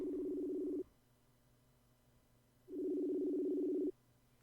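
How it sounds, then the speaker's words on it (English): A telephone ringback tone heard on a call, two steady buzzing rings separated by a gap of about two seconds, clear and moderately loud with a faint line hum underneath. "One ringing. Well, at least it's not going over to voicemail."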